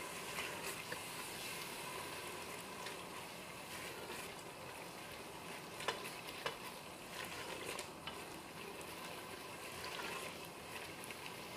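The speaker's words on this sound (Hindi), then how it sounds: "थोड़ा और स्टॉक, और इसको अच्छे तरीके से हम भूनेंगे." Bhindi gosht, a meat and okra masala, sizzles steadily in a pan while it is stirred and fried, with a constant crackling hiss and occasional soft scraping clicks at a modest distance, with no talking.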